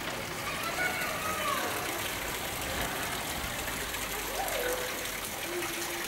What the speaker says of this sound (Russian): И вот фонтаны, вода.